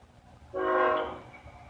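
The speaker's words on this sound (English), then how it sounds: "There's a train going by" A train passing at a distance sounds a horn, a single tonal blast of under a second that swells and fades over faint low rumble, with no talking.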